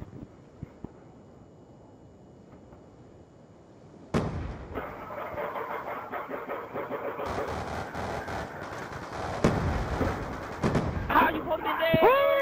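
Dual pistols firing in the Black Ops 2 video game, with a quiet stretch and then a series of sharp gunshot cracks in uneven bursts, growing denser and louder toward the end.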